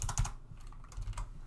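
Computer keyboard keys pressed in a brief flurry of clicks, a few quick taps followed by a pause and a couple more, close and fairly crisp with no voice.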